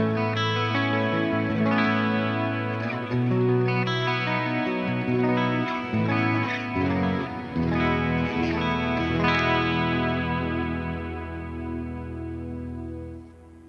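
A distorted electric guitar on its bridge pickup plays a continuous run of chords and notes through a Kemper profile of a Mesa JP2C amp, with chorus-like shimmer and some reverb, loud and up close.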